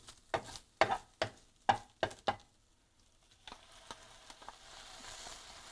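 Pork and kimchi cook in a pan for fried rice: several sharp clacks of a utensil come first, then a steady, soft sizzle of frying takes over, close and with no voices.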